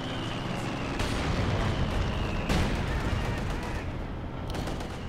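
Mortar fire hitting an anti-tank gun in Company of Heroes 2, a dense barrage of booming explosions and gunfire with sharp blasts near 1 and 2.5 seconds over constant battle rumble, with a voice talking over it.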